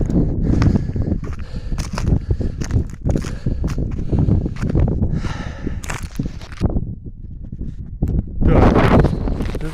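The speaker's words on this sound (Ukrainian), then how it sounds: "Ну Вітер тут непоганий" Gusty wind buffeting the microphone outdoors in an open field after a sunflower harvest, loud rumbling rushes rising and falling, with rustling and a few scuffing steps.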